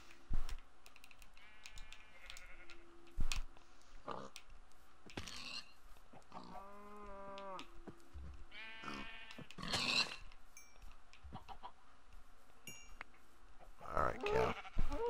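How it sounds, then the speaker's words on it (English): Sheep in the video game Minecraft on Xbox One bleat in a few wavering calls, some fairly loud, mixed with quick keyboard-like clicks and scattered game noises, with no one talking. "I hear sheep all day."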